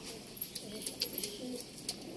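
Pigeons coo softly in a loft, low murmuring calls scattered across a couple of seconds beneath faint background chirps and noise, fairly quiet and close.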